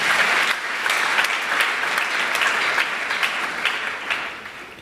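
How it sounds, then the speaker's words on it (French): A church congregation at a French-language sermon applauds loudly and warmly in a dense burst of clapping that fades slightly toward the end. "Acclamons Jésus."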